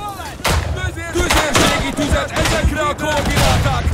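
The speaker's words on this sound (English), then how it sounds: "Putting artillery on our own fort." Artillery shells pound a fort in the World War I shooter Tannenberg, with a rapid series of booms and sharp cracks, some near and loud, others distant, overlapping in a dense barrage.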